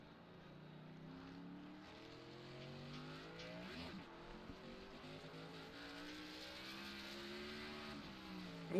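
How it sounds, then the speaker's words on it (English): Several stock-setup race cars lapping the Daytona Road Course in the iRacing sim, a steady layered engine drone with rising and falling pitch sweeps as cars accelerate and shift, at moderate level throughout. "we'll keep an eye out on the cars on the track here tonight, Mike."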